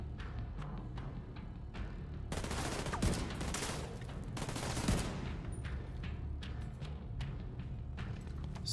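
Automated turret firing in The Division 2 on Xbox One X, dense rattling bursts of gunfire that swell in the middle and are joined by sharper single shots and thuds, mid-distance and steady throughout.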